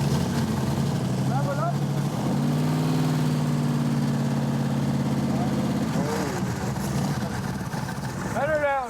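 A car engine hooked to an external oil pressure gauge runs at idle for a test. Its low, steady drone rises slightly in pitch and stays constant, and people talk over it.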